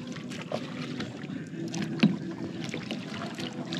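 Kayaks are paddled through Hikkaduwa Lagoon, three of them towed in a line, with soft paddle strokes and water lapping close by over light wind.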